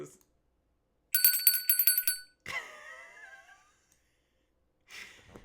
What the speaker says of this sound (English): And they ring the joy bell.